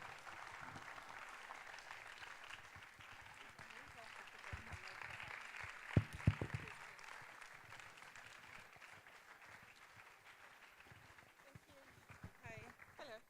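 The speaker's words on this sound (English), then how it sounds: "Please a round of applause for her till she gets to the stage." Audience applause continuing steadily as a speaker walks to the stage at the UIK Thinkation 2025 event, fairly faint and even throughout with a few sharper claps near the middle and some voices underneath.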